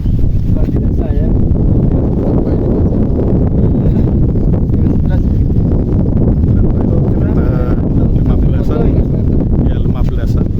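Steady outdoor breeze rushing past the microphone at the Penataran temple site in Blitar, a continuous low blustery roar throughout, with someone talking over it.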